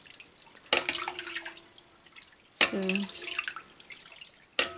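Water pours into sheep's-milk curds during Gouda cheesemaking, splashing in short bursts with quiet gaps between them, close by and fairly faint, and a voice speaks briefly.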